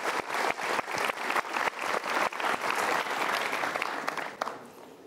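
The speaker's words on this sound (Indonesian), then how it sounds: "Oke, kita berikan tepuk tangan dulu." A room full of people claps steadily for several seconds, the applause dense and even before gradually thinning out.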